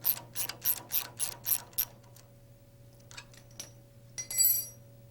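A wrench loosens the jam nut on a Rotorway helicopter rod end, giving a quick, even run of about eight close ratcheting clicks, followed by softer metallic clinks and a brief jingle near the end.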